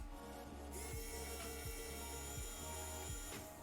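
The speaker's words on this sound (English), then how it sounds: "Get that unscrewing ASMR for y'all." Screws are unscrewed with a powered driver, giving a steady high whir at close range, with a few soft periodic clicks roughly every second.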